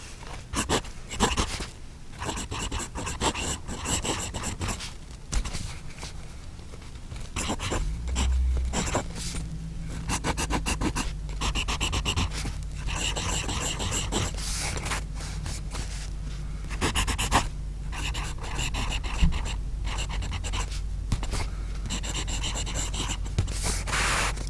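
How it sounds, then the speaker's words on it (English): A Kaigelu 316 ivory fountain pen nib scratches steadily across paper in a continuous, close, dry rasp of strokes and pauses, with a low hum underneath throughout. "as soon as we put nib to paper, hopefully we can also validate that it's an excellent writer"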